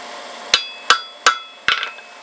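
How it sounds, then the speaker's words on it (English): Four sharp, evenly spaced hammer taps ring out on a chisel marking a line on metal in a blacksmith's shop, the last strike followed by a brief bouncing rattle. "We just tap ourselves a line down through here so that we know"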